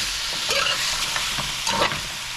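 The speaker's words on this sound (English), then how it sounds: "I want that grind up the green seasoning to get a little toasty also." Ground green seasoning toasts in a pot for lamb pepperpot, giving a continuous loud sizzle broken by several scraping stirs of a spoon against the pot.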